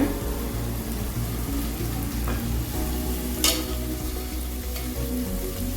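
Boiled mutton for white biryani sizzles and fries in a hot pot while being stirred, with a steady crackling hiss and occasional scraping clinks of a spoon.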